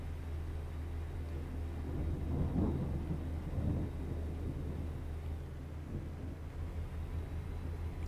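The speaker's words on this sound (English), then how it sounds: "This is a pretty extreme thunderstorm." Thunderstorm in a trucking simulation game: a faint, steady low rumble of rain and road noise with a soft roll of thunder swelling briefly in the middle, no voices.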